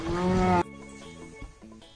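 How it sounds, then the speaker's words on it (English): A hippopotamus call comes as a short, deep, loud bellowing grunt that cuts off abruptly, followed by a low quiet background with faint thumps. "Hippopotamus."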